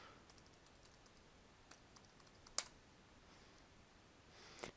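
Quiet, irregular clicks of keys being typed on a computer keyboard, with one sharper key strike midway, heard close against a faint background hiss.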